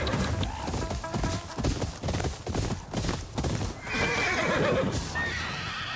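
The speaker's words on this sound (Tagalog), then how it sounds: "Uy, mga kabayo. Daming kabayo." Horses in the video game Ghost of Yotei neigh and whinny over a steady clip-clop of hooves, with a sharp whinny rising near the end against busy background game sounds.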